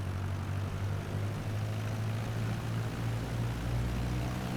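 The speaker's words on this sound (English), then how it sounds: "It's a very quiet engine." A Hawker Hurricane Mk I engine in Microsoft Flight Simulator drones steadily as a continuous low propeller hum at even loudness throughout, with no talk.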